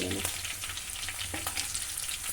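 Nigella seeds and torn green chillies sizzle in hot mustard oil for a Bengali mustard hilsa dish, a steady close crackling fry with small spatters and stirring clicks throughout, no voices.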